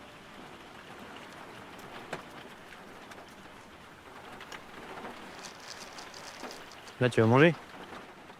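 Steady rain patters on the roof of a camper van at a beach campsite, a soft continuous hiss throughout, with brief voices and a short animal vocal near the end.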